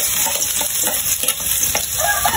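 Onion and garlic sautéing in a pan for squid adobo, a loud, close, continuous sizzle with rustling stirring strokes and no talk.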